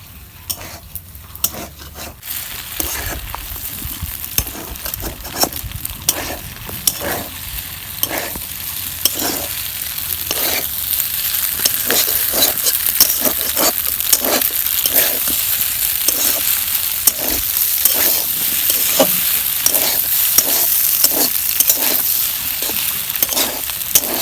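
Noodles with egg frying in a pan, stirred again and again with a utensil. A loud, close sizzle runs throughout, broken by a steady rhythm of scraping strokes against the pan, with almost no talk.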